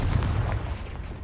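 Confringo blast spell in Hogwarts Legacy, a short, loud, low burst that rolls into a rumbling fiery roar and slowly fades, heard on its own.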